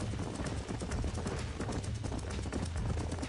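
Horse hooves clip-clopping in the video game Red Dead Redemption, a steady rapid run of hoofbeats close by with a dense rumbling background and no talk.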